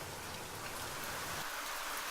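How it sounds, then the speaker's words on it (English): Steady rain falling in the post-apocalyptic farming game Farmer in the Fallout, a continuous hiss of drops on surfaces that softens slightly toward the end, with no voices. "Rain is the only sound in the game so far"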